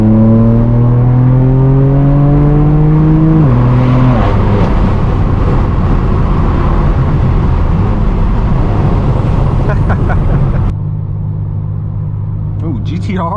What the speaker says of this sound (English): let's enjoy this car for a bit, get some accelerations in